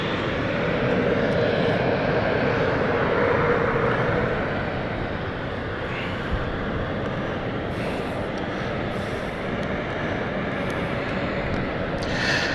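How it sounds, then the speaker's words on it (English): A KLM passenger jet takes off at London City Airport, its broad engine roar loud and steady at first, then easing slightly as it continues, with faint clicks and knocks near the end. "So we're going to have a double stacked KLM departure."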